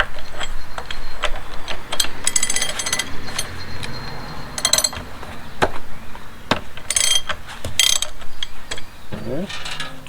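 A nut being loosened on an old engine block with a ratchet, bursts of rapid metallic clicking repeating several times, close and loud against a busy workshop background.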